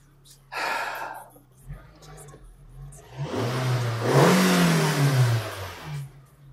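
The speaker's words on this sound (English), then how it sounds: "Let's give it a rev." A Vauxhall Tigra engine with a newly fitted mass airflow sensor starts with a brief burst, then revs up in a rising, wavering roar that peaks and settles, nearby and fairly loud.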